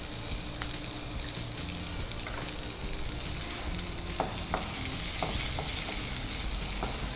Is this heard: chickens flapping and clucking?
no